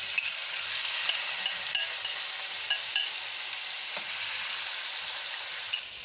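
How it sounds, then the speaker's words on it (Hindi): Marinated chicken fries in oil in a kadhai, giving a continuous, moderate sizzle with a few soft clicks of stirring, close by and without speech. "ये इसमें मैंने कढ़ाई में थोड़ा ऑयल डाला है, तब मैं इसमें चिकन डाल रही हूँ।"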